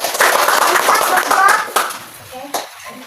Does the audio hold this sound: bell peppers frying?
no